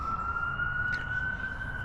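Loud, steady ambulance siren tone passing close by, sounding over a rumbling traffic background.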